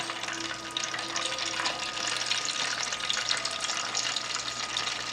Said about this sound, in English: Now you put it in the fryer.